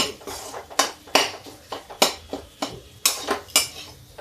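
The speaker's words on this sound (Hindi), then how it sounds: "कढ़ाई पकड़ इसको कस के भून देंगे" A spoon scrapes and clanks against a kadhai as pakora filling is stirred and roasted, irregular sharp metallic strikes roughly every half second, close and clear.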